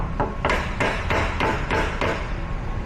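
A hammer strikes an impact socket to drive a part into a Komatsu forklift hydraulic cylinder during a rebuild, giving about seven sharp metallic blows at a steady, slightly uneven rhythm, loud and close, with no talking.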